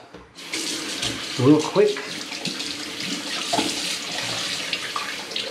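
Water pours steadily from a sink tap while the face is wetted before a safety razor shave, a continuous splashing rush with brief louder splashes of hands in the stream; a voice speaks briefly under the flow.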